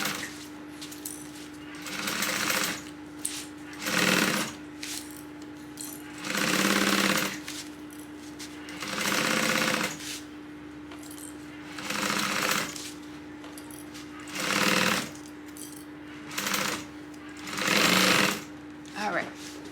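A sewing machine stitching a tote bag seam runs in repeated bursts of fast whirring, each a second or two long with short pauses between, close and loud, with a steady background hum.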